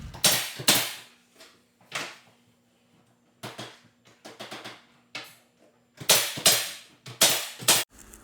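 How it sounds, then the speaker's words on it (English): Trim pieces being nailed onto a wall for an accent wall project, a series of sharp, fairly close impacts in irregular clusters with quiet gaps between them. "nail them to the wall using the same technique I used before"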